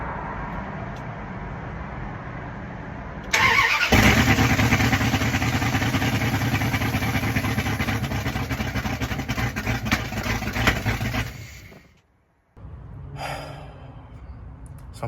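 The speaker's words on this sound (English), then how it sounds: "I might as well go ahead and start it up and just give y'all a little bit of a sneak peek." 5.2L Magnum truck engine with new exhaust and headers turns over and fires up into a loud, rough, throbbing idle. It runs steadily close by for several seconds, then cuts off briefly before a lower rumble resumes.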